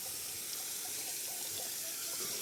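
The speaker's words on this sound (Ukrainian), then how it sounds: "Бачите, як воно там вода зливається, скільки її багато." Water drains through the sieve of a DTZ 354U pumpkin combine fitted with a forced irrigation system, a continuous splashing, hissing rush of running water heard close and even throughout.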